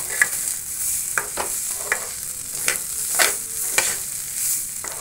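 Small quantity of payesh ingredients frying gently in a pan before going into milk, a steady soft sizzle broken by repeated sharp scraping stirs, close up with no talking.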